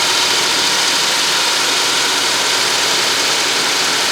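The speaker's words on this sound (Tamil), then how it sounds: "இந்த கட்டிங் எப்படி ஸ்டார்ட் பண்ணுறோம் பாருங்கள் த டபுள் கட்டிங் எஜ் மிஷின்" A double-edge cutting machine starting to cut granite stone, giving a loud, continuous, even mechanical roar and grinding hiss with no breaks.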